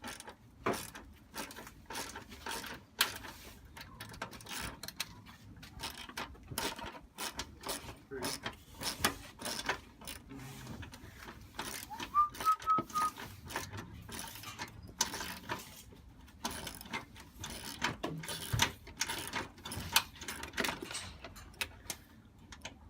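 Mechanical clicking and ratcheting as a fitting is loosened on a Mustang's cold air intake during an SR intake install, a steady run of close, repeated clicks and clatter for most of the stretch, with no talk.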